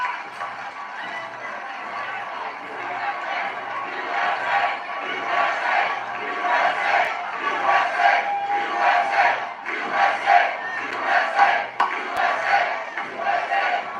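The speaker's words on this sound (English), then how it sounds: "What an incredible crowd." A large crowd at a Trump political rally cheers and chants in loud, swelling waves that pulse rhythmically and keep going steadily, with no clear single voice on top.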